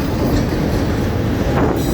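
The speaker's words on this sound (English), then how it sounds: "I don't see the end of the train yet" An FEC freight train rolls steadily across a bridge in St. Augustine, Florida, a continuous loud rumble of cars and wheels with no break over the two seconds and no talk.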